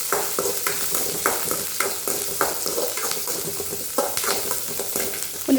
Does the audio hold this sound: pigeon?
no